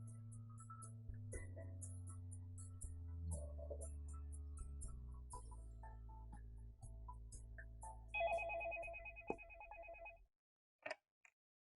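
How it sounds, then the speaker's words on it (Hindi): A telephone rings with a tonal ringtone melody, steady and moderately loud before cutting off, followed by a couple of faint short beeps. "अरे वफा का फोन है"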